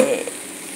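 Rice and vegetables hiss and sizzle briefly in a hot pan as they are stir-fried into fried rice, a short close burst of frying.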